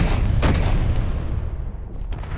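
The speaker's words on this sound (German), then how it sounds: "Da wurde ein Schuss abgegeben." A heavy, booming video game gunshot in Space Engineers rings out near the start, followed by a rumbling echo and a dense, noisy wash that slowly fades.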